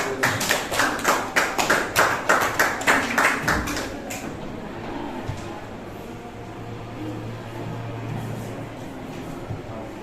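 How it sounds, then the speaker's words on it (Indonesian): An audience at a teaching presentation claps in an even, rapid burst lasting about four seconds, then falls away to quiet room hum. "Terima kasih, beri aplaus."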